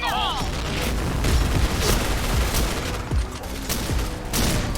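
A K2C rifle fires in Point Blank with rapid, crackling bursts of automatic gunfire and heavy booms, loud and close, while players talk over the shooting.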